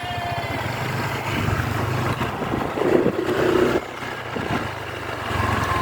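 A motorcycle engine drones along the road, a steady passing rumble that swells slightly midway and then eases, heard from nearby without talk.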